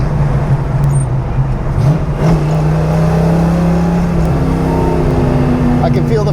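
A 1968 Ford Mustang on coilovers accelerating, its engine droning steadily and rising in pitch from inside the cabin, with a voice speaking over the steady road noise.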